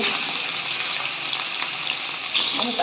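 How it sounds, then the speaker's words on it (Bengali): Fish frying in hot oil in a blackened karahi, a steady, close, dense sizzle and crackle running throughout without pause. "আজকে মাছটা হবে মাছগুলো আমি তেলের মধ্যে দিয়ে"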